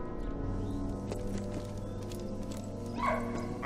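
A dog barking in the video game Valiant Hearts, a few yips and bow-wows set against a steady background music bed, fairly loud, with no speech.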